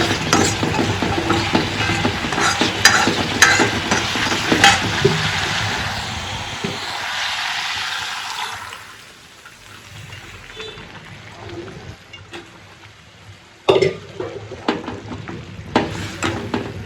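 Chickpea curry gravy sizzles and fries in a pan while being stirred, a steady dense crackle for about eight seconds that then drops to a quieter simmer, with a few sharp scraping clatters near the end.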